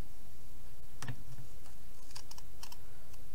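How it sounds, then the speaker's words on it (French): Scissors cutting paper, a few crisp snips and clicks scattered over a steady background hiss, close and moderately quiet. "je vais découper au ciseau."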